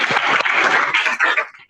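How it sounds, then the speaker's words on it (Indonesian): Applause in a classroom during a computer hardware lesson: a short, dense burst of clapping from a group of students, close and steady for under two seconds before thinning out. "Oke, tepuk tangan dulu."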